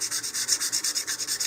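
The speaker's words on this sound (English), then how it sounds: "I'm going to use some 220 grit sandpaper here" Rapid, even strokes of 220 grit sandpaper rubbing along the seam of a plastic Estes Goblin model rocket nose cone, a close and loud back-and-forth rasp at about eight passes per second.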